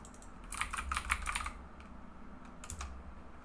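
Soft keystrokes on a computer keyboard come in a brief flurry, then a couple of isolated taps after a pause, faint and close in a quiet room.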